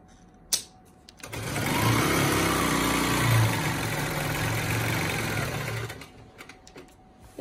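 A sewing machine runs steadily for about five seconds, free motion quilting a vine along a ruler on the Granny Garden quilt, with a loud, close, even mechanical hum and rapid needle stitching that starts and stops abruptly.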